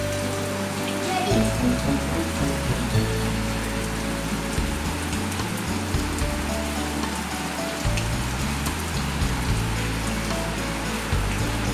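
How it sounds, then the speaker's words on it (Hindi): Heavy rain pours steadily, a constant close wash of patter, with faint low tones shifting underneath. "मुंबई में भी यहाँ बहुत अच्छी सी बारिश हो रही है"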